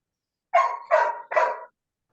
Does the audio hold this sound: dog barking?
yes